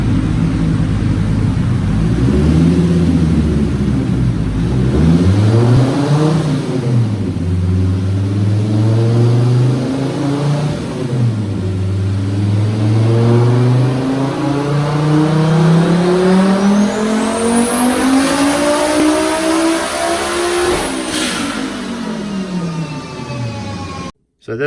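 A 650 wheel-horsepower Volvo 850 screams on a dyno, loud and close, its revs climbing in repeated sweeps toward 8500 RPM with brief dips between pulls, ending in a sharp cutoff.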